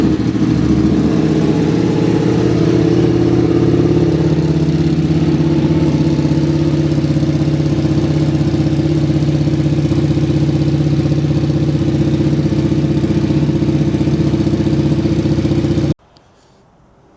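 A KTM RC8 motorcycle engine on its first start-up after fuel pump and injector work, idling loud, close and steady with a deep rumbling throb, then cutting off abruptly near the end.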